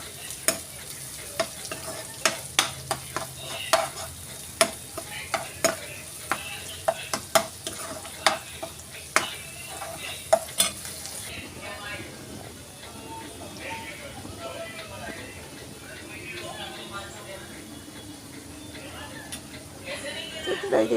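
Cashew powder sautés in a pan for kaju curry. A spoon scrapes and taps in a steady rhythm over a soft sizzle, then the stirring eases into a quieter, continuous fry.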